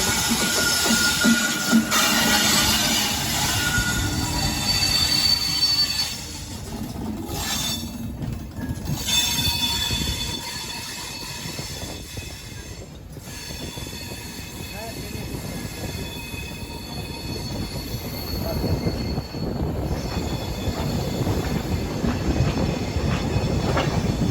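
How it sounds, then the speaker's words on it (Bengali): Another special train passes close by for a long stretch, its steady heavy rumble carrying high, ringing wheel squeals and intermittent clatter that rise and fade as the cars roll through. "আরেকটা স্পেশাল ট্রেন এখানে আসছে"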